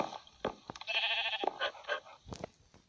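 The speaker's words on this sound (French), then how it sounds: "Voilà, c'est le mouton de Wolf." A sheep bleats in Minecraft with one drawn-out, wavering call followed by a few shorter sounds, close and clear, with no talking.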